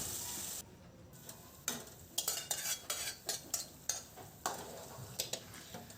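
Cooked dal stirred into a spice masala in a pot, with a series of quiet rhythmic scraping and clinking strokes of a spoon against metal. The stirring starts after a brief hush and sounds faint and close.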